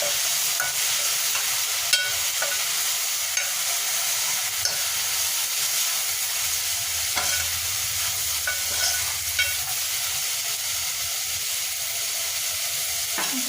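Spices, green chilies and sambar powder for fenugreek leaf sambar fry in a pan with a steady hiss, while a spoon clinks and scrapes now and then as the mixture is stirred.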